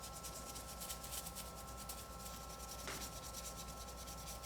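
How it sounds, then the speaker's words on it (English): A soft brush gently rubs loose gold foil off a surface where no glue was applied, giving a continuous faint scratchy swishing close by, with no talking. "you just gently taking a brush and basically removing the gold foil from where you didn't put the glue"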